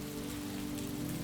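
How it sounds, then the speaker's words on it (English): Steady rain patters on surfaces on a night in Vienna, a soft, even hiss of drops that stays constant and unbroken throughout. "the patter of rain acting as percussion"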